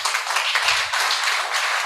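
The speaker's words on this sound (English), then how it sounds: "Please clap for him." An audience claps for the artist Oluwale Omofemi in a dense, steady burst of applause that fills the short stretch, with no talking.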